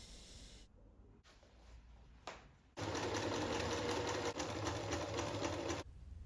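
A sewing machine stitches a white stripe onto a reproduction 1606 British flag. A few soft clicks come first, then the motor runs loud and steady at close range for about three seconds before stopping.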